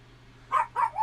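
A dog in a room gives three quick barks or yips in a row, close and fairly loud, after a moment of near quiet with a low hum.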